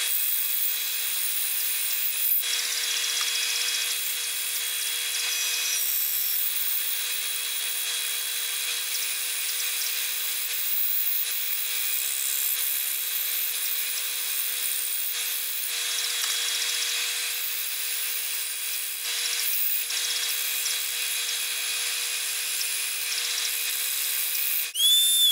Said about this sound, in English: Next thing I'm going to do is route out the body